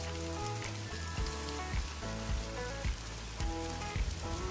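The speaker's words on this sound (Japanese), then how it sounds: "氷が降ってきました。" Heavy downpour with hail pelting a garden, a dense, steady roar of drumming impacts and sharp ticks close by, continuous and loud throughout with no voices.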